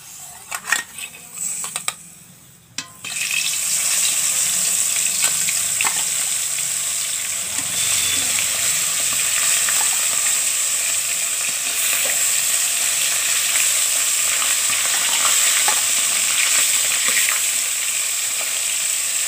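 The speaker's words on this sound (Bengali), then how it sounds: "তেলটা গরম হয়ে গেছে, আমি মাছটাকে দিয়ে দিচ্ছি একটা একটা করে।" River koi fish fry in hot oil, a loud, steady, close sizzle that bursts in after a few soft clinks and thuds and hisses on without a break.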